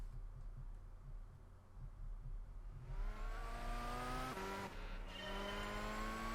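An Alfa Romeo race car in Gran Turismo 6 drones along, its engine rising in steady revving sweeps as it accelerates, with a brief tire-squeal hint, moderately loud and alone.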